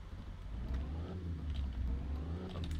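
Car engine in a dating simulator video game revving and droning steadily, a mid-loud motor rumble with wavering pitch, heard alone for a few seconds.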